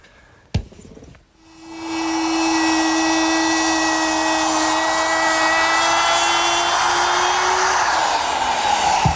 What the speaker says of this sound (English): I'm using the same router bit that I trimmed the wood veneer with a little bit earlier.